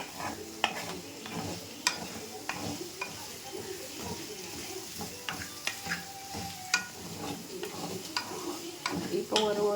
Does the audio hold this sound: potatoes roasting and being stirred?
yes